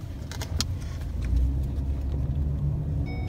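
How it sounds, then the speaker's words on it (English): A car engine idles and rumbles in traffic, a steady close low drone with light rattles and a few brief clicks, no talking. "Stuck in traffic, guys."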